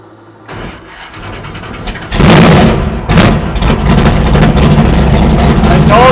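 A 1969 Plymouth Barracuda engine cranking briefly, then catching and roaring to life, running loud and rough at close range with uneven surges after starting.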